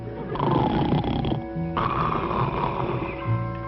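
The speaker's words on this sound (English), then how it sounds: "And there I go snoring again before I'm asleep." Loud, close snoring in long rattling breaths, one drawn-out snore followed by another, with no talking.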